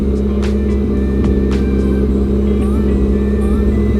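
A car engine with a surging-idle fault and a replacement idle air control valve idles steadily up close, a constant low rumble with harmonic hum, occasional faint clicks on top.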